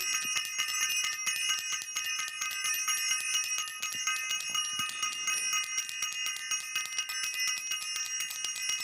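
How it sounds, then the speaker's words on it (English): A bell rings repeatedly in a steady, shimmering series of bright strikes that overlap into a sustained metallic wash, loud and close, with no talking throughout. "Let's ring the bell."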